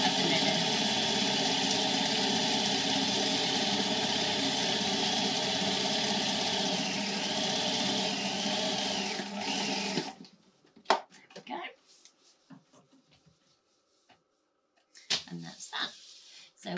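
Sewing machine working a broad zigzag stitch along the edge of linen, humming loud and steady for about ten seconds before stopping, followed by quieter scattered handling noises.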